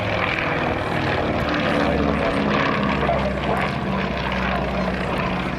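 An Avro Anson twin-engine propeller aircraft passing at an air show at Warbirds over Wanaka, its engines a loud, continuous droning roar that holds steady throughout with no voices.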